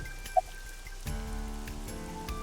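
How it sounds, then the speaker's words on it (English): Rain in the video game AI: The Somnium Files, a soft steady patter with scattered drops beneath game music tones, fairly quiet and with no speech. "This rain is awful"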